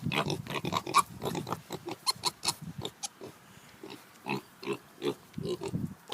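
Young weaner hogs in their pen, Durocs among them, snuffling, grunting and oinking close by in quick irregular bursts, with faint rustling between calls.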